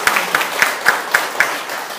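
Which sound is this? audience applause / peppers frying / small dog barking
audience applause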